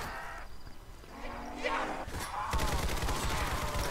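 Rapid gunfire in the Roblox zombies game, with bursts of automatic shots and impacts growing louder and denser toward the end over a busy game soundscape.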